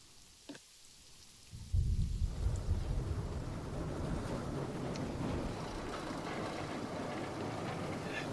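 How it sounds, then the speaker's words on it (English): Tropical rainstorm in the zoo-building game Planet Zoo: after a quiet opening a heavy downpour sweeps in at once, settling into a dense, steady roar of rain with low thunder rumbling beneath it. "The rain in this game because I'm in the tropics, gets really, really, really, really intense, as you'll start to see."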